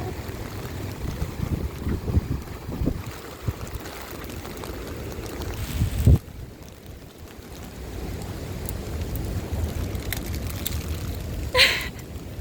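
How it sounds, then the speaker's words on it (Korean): Steady roar of heavy rain and wind buffeting the microphone while riding a scooter in Kenting, Taiwan, with a couple of sharp knocks, continuous and close. "최남단에 도착을 했는데 비가 너무 많이 와요."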